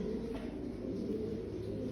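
Turkish game pigeons coo in a low, continuous murmur, steady and fairly close, with no other distinct sounds.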